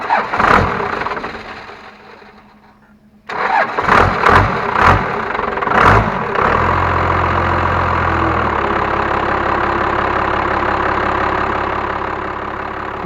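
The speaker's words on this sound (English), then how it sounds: "With the engine running" A Cummins diesel engine in a 1997-98 truck cranks a few times, fires up, and settles into a steady, close idle with a deep, even rumble.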